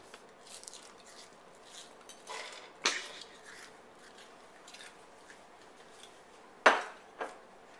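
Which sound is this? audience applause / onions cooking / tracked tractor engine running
onions cooking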